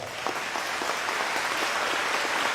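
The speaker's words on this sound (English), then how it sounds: "I'm going to give him a round of applause as well" Steady crowd applause at a Maryland Workers Association speech by the governor, an even wash of many hands clapping from the audience with no pauses.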